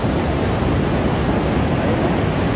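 Strong ocean surf pounding the beach at Pawikan in Morong, Bataan, a loud, continuous roaring wash with heavy wind buffeting the microphone, no pauses or talking throughout.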